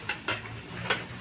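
Garlic sautéing in a pan for goat kaldereta, a close, hissing sizzle broken by a few sharp stirring scrapes.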